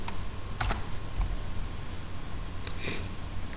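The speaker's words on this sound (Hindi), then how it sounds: "मैंने यहाँ पर टाइप कर लिया" Keys clack on a computer keyboard in a few quick bursts of typing separated by pauses, close and fairly clear over a low steady hum, with no one talking.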